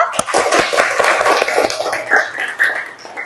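Classmates in an Indonesian classroom applauding a group presentation, a short burst of close, irregular hand claps that thins out toward the end, with some voices mixed in.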